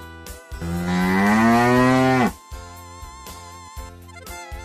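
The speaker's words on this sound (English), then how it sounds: "A cow lives in a shed." A single cow lets out one loud, drawn-out moo of about a second and a half, close by, over a steady background of tonal music.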